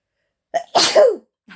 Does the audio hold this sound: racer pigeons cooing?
no